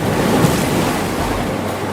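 Flood water rushes through a village in a cartoon, a dense, steady, roaring wash of water noise that is loud and close, with no talking.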